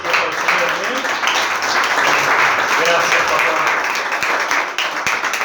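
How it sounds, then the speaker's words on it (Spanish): A church congregation gives sustained, loud applause in praise, a dense wash of clapping holding steady for several seconds, with voices mixed into the crowd noise. "Dale un fuerte aplauso al Señor"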